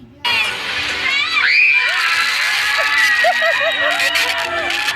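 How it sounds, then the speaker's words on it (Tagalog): A large crowd of fans shrieks and cheers loudly and continuously, high-pitched screams rising over a dense roar of voices, starting abruptly and staying intense throughout. "Grabe talagang hiyawan."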